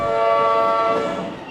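Trains pulling into a station near the MCG in Melbourne, a loud, close, steady rumble with sustained horn-like tonal blasts, fading slightly toward the end, with no talk.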